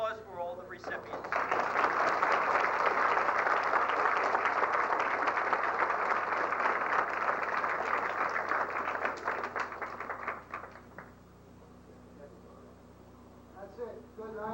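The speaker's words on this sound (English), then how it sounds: "applause for all the recipients" Sustained audience applause at a 1991 celebrity gala honoring award recipients, a dense steady wash of clapping for about ten seconds before thinning to a quieter tail, with faint voices underneath.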